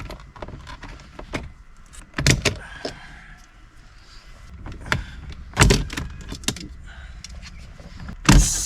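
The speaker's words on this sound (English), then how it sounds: "And then pop off these little side trims." Interior side trim panels prised off a VF Commodore, with several sharp plastic pops and clicks spaced seconds apart over softer close handling noises and rustling.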